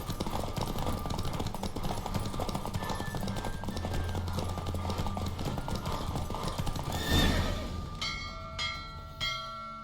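Hooves clip-clop at a fast gallop through a horse race in The Witcher 3 game, steady and close, ending with a horse's neigh and a few bell-like tones.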